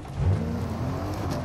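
Car engine from the Fortnite battle royale game, a steady low droning motor with a slight rising rev, continuous and fairly close, no talking.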